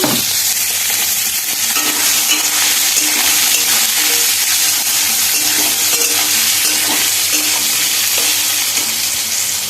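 Steady, loud sizzling of potatoes and coconut frying in hot oil, a dense crackling hiss that runs unbroken throughout with faint stirring underneath.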